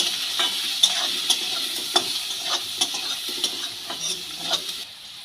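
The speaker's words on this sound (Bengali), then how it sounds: "হলুদ লবণ দিয়ে আলুগুলোকে ভেজে নেবো" Potatoes fry in oil with turmeric and salt, a steady close sizzle broken by repeated stirring scrapes and taps of a utensil against the pan.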